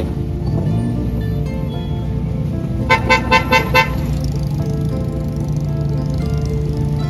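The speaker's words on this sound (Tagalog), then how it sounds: "Traffic pala po dito." Road traffic on a Philippine street rumbles steadily nearby as a car horn gives four quick toots in a row partway through, then the engines and passing vehicles continue without voices.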